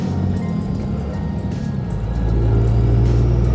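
Cummins diesel dually truck with a 5-speed manual cruising in fourth gear: a steady, close, low engine rumble and road drone that swells slightly louder midway and holds there.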